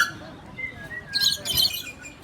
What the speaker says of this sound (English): That is an eastern rosella.